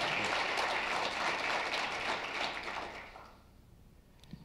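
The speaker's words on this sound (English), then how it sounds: "let's give one more round of applause for this guy here" A conference audience at a closing session gives a round of applause, dense clapping that holds for about three seconds and then fades to a few scattered claps.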